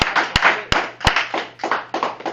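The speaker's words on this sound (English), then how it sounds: "let's give him a round of applause." A class of students gives a short round of applause, a quick patter of claps with a few sharper slaps standing out, close by and over in about two seconds.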